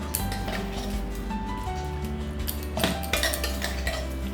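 A spoon clinks and scrapes around a bowl of red chilli pickle with lemon and spices, a dense run of metallic knocks and wet stirring noise up close, with no one speaking.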